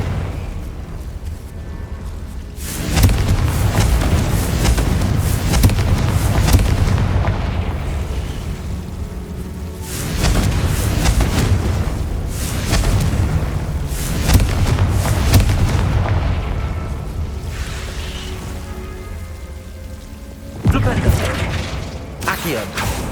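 Confringo blasting spell explosions in the Hogwarts Legacy video game, several heavy, loud booming blasts in sequence, each with a long, deep rumbling tail.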